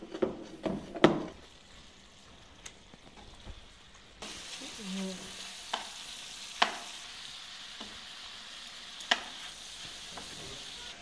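Pieces of meat drop into melted butter in a pot, setting off a steady sizzle with a few clattering knocks and scrapes of utensils; people talk quietly in the background.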